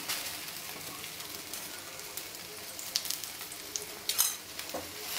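Dosas frying on a hot pan give off a steady crackling sizzle, with a few sharper spatters and light scraping near the end, close by with no one talking.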